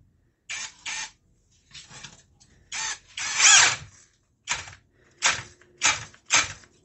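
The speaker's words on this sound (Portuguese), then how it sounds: "Reparem no tanto que vai entrar cada uma das brocas na madeira, principalmente na alta rotação." A compact cordless drill driver drills bits into wood at high speed in short bursts of motor whine and boring noise, about eight separate runs with quiet gaps between them.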